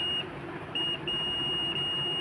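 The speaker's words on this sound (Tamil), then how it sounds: "உங்களுக்கு ஒரு பீப் சவுண்ட் கேட்கும்." A multimeter set to continuity mode gives thin, high electronic beeps that drop out and return a few times over steady background hiss, while a float-type water level controller switch is being tested.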